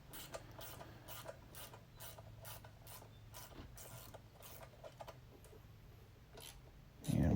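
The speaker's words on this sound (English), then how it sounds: "I'll use a 12mm socket to remove the caliper bolts." A 12mm socket on a ratchet loosens the front brake caliper bolts of a Honda VTX 1800 with a steady run of quick, faint clicks that are close and light, ending in a sharp louder knock.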